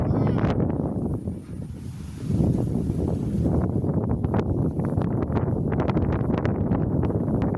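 Strong wind buffets the microphone in loud, gusty bursts with rustling, nearly constant throughout, at an outdoor village cooking fire; a voice speaks underneath at times.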